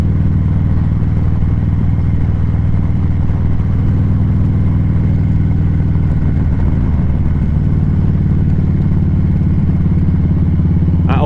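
A Harley-Davidson motorcycle on a road test ride, its engine a steady, loud, low rumble throughout with a constant wind and road roar.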